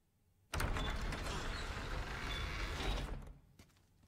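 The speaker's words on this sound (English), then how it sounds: "Yep, that's a door." A door opening in the Resident Evil 4 video game: a loud, sustained mechanical grinding slide lasting about two and a half seconds, then trailing off, with no talk over it.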